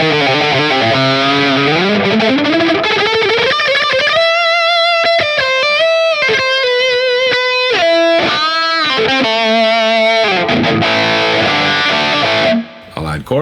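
An electric guitar played through a Line 6 POD Go running the Diesel VH4 preset with a crunch tone and reverb, loud and distorted, starting with a rising bend then choppy chord stabs and sustained notes, alone.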